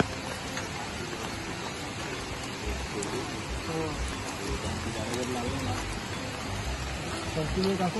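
Steady rain falls near a swollen, muddy river in a Ratnagiri village in the Konkan, making a constant dense hiss of drops on surfaces.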